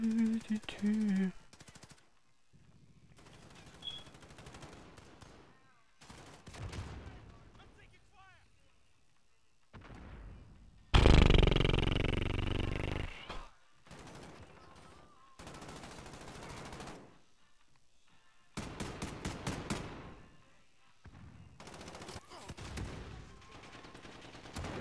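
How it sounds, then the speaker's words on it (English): Rapid automatic gunfire in a video game comes in several short bursts, one especially loud and close, amid quiet stretches and someone talking over it. "Why can the gun shoot quicker than usual?"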